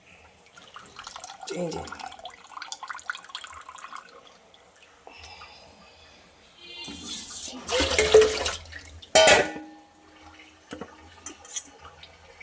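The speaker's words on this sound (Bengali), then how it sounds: "ছানাটাকে চিপে এবার একটু ওই যে ঠান্ডা জলের মধ্যে দিয়ে কিছুক্ষণ চিপে চিপে জলটা বার করছি" Fresh chhana being squeezed by hand under cold water, the liquid wringing out and splashing in soft drips and short pours, with two louder bursts of running water late on and a brief spoken aside.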